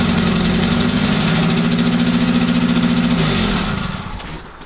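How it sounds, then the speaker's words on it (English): A project car engine idles roughly and loudly up close with a pulsing, uneven throb, then winds down and fades away near the end. A possible exhaust leak adds a rasp to the idle. "You guys heard the startup. It's a little bit rough. I think it has an exhaust leak or something"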